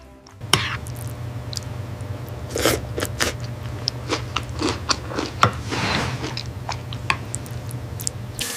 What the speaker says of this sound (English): The first bite of Morningstar Oats.